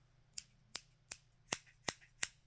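Loose dollar-store scissors snip open and shut six times in a steady rhythm, each a sharp, close metallic click over a quiet low hum.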